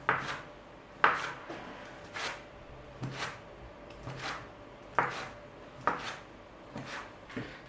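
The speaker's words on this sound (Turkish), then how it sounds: "Bir bıçakla ya da şöyle aparatla 2 parmak aralıklarla kesiyorum." A knife or cutter slices through soft pastry dough for poğaça buns at even two-finger intervals, giving about eight distinct, moderately quiet thuds on the board in a steady, unhurried rhythm.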